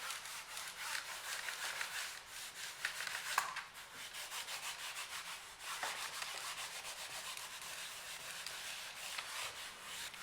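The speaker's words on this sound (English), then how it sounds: "next we are going to apply a small amount of silicone oil on the surface and rub it" Silicone oil is rubbed into a faded laptop's plastic surface, making a faint, steady, dry scrubbing and swishing that continues for ten seconds with no talk.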